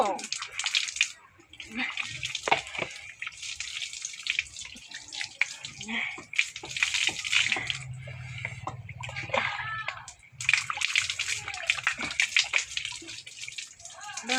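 Water is poured and splashed while a child's hair is washed after shampooing. A sloshing bath-like flow runs in uneven bursts with brief pauses, close by and mixed with voices.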